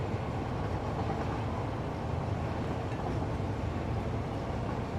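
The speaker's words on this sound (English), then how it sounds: "I end up sitting on a train" Steady, continuous rumble of a train ride in the game Satisfactory, a dense even roar with no breaks, heard alone without talk.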